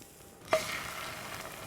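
A frying egg hisses in a hot pan just after being turned with a spatula, a sudden burst of sizzle at the flip that settles into a steady, fairly quiet frying hiss.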